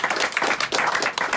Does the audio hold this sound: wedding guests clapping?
yes